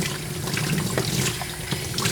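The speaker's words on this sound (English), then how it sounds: "Let's give her a last rinse, and we can move on to the next step at the table." Running water from a grooming tub sprayer rinsing a miniature poodle, a steady close splashing and trickling with slight fluctuations throughout, no talk.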